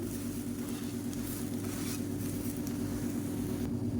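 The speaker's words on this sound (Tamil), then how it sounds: "திருப்பி போட்டு நல்லா அப்படி ப்ரெஸ் பண்ணி விட்ருங்க அதான் உள்ளுக்குள்ள வந்து நல்லா ஹீட் ஏறும்" A sprouted green gram omelette frying on a hot pan after being flipped and pressed down, a soft steady sizzle close by with low background hum and no talk.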